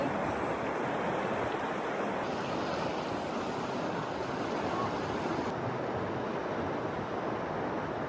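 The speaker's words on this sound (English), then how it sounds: "So the water comes out right there, and it's like boiling hot. Flows down" Steady, even rush of boiling-hot spring water flowing in the Sawtooth Mountains, Idaho, fills the scene, a constant broad hiss without pauses or voices.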